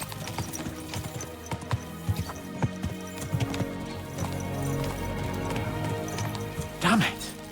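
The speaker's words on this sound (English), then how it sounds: "Let's really spur these horses on, eh?" Horse hooves clip-clop at a riding pace in the medieval game Kingdom Come Deliverance II, steady irregular thuds near and moderately loud with a brief whinny-like burst near the end, over background game ambience and speech.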